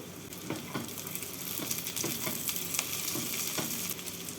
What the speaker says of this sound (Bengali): কাজু আর কিশমিশ দিয়ে নাড়াচাড়া করে নেব